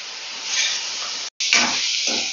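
Chopped tomato and onion sizzle in hot oil while frying for a veg Manchurian gravy, a steady loud hiss that cuts out briefly, then returns with added bubbling crackle.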